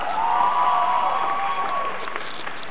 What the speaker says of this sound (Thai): ขอเสียงปรบมือดังๆด้วยนะคะ